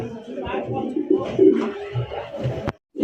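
Fancy pigeons at a pigeon farm give low throaty coos in short repeated bursts, heard close beneath someone talking over them.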